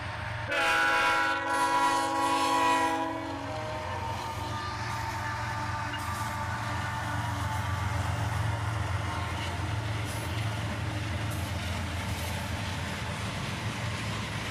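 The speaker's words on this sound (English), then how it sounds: "Two trains passing each other" Two trains roll past each other with a deep, continuous rumble of wheels and engines, a horn sounding for a few seconds near the start before the steady clatter carries on.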